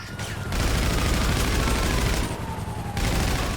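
Bursts of rapid video game gunfire in GTA 5 Online, loud and dense, with brief drops between volleys and continuous shooting throughout.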